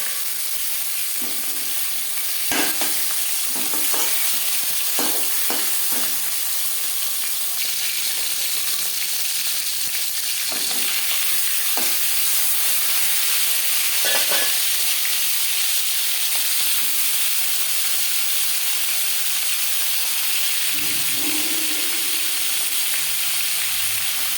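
Marinated fish heads sizzle and spit loudly in hot oil for a long stretch, with occasional clinks and scraping of a utensil against the pan.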